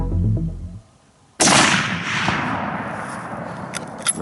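A single sharp rifle shot cracks during a deer hunt, loud and sudden after a quiet moment, followed by a long fading echo across open ground with faint rustling.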